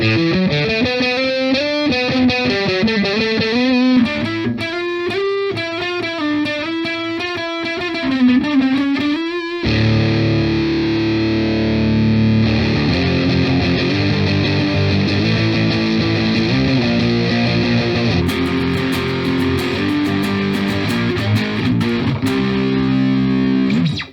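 Electric guitar through a Boss DS-1 distortion pedal playing a run of picked notes, then settling into thick, sustained distorted chords, loud and close with no voices.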